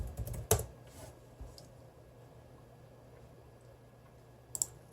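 Someone types briefly on a computer keyboard, a few crisp clicks near the start and a short pair of taps near the end, with quiet room hum between.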